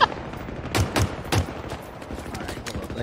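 Rapid bursts of assault rifle fire in Halo Infinite multiplayer, a few sharp cracking shots close together, with quieter game noise around them.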